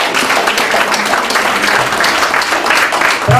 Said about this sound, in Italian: L'applauso delle Muse